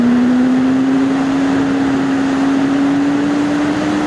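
A BMW S1000RR sport motorcycle holds second gear with a steady, loud engine drone and a constant tone climbing slowly, wrapped in heavy wind roar, with no voices.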